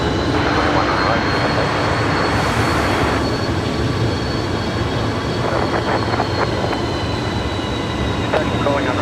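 Aircraft engine roar on the runway at Brisbane Airport, a loud steady broadband rumble throughout with a faint radio voice over it.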